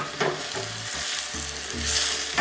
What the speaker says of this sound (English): So we need to cook another 6-7 minutes for tomato until it's cooked and soft